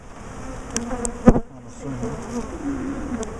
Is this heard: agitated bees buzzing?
yes